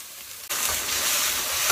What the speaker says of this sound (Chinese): 把辣椒炒熟，放适量的酱